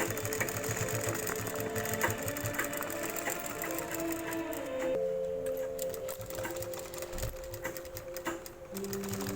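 A sewing machine stitching a shirt collar onto a neck piece, its rapid even needle chatter running close and steady, with a brief pause and change in pitch partway through.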